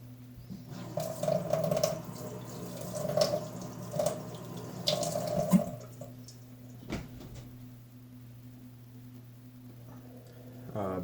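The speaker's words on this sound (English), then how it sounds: "I'm going to constantly run a little bit of water" A sink tap runs in a thin stream while someone rinses tie-dye, a soft continuous trickle with splashy bursts over the first six seconds, then a quieter flow with a steady hum beneath.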